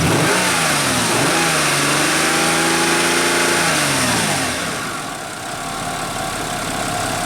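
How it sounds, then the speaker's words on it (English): Nissan Maxima engine with an overheating and long-crank fault, revving up sharply on a throttle snap, rising and falling in pitch, then settling back toward idle; loud, close and alone. "Ooh, got a little pulsation there. See snap throttle?"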